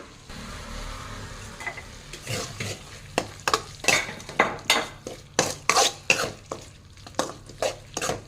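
A spoon stirs and scrapes a tomato mixture with turmeric sautéing in a pan, giving a run of regular, close metallic clinks over a soft sizzle, with no talk.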